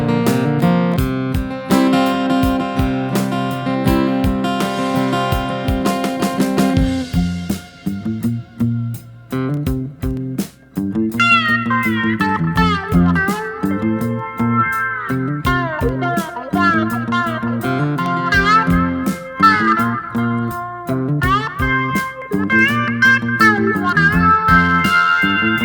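Electric guitar through a wah pedal plays a slow, bluesy lick, with a full chordal opening followed by sliding, vocal-like notes sweeping across the wah's range, loud and alone.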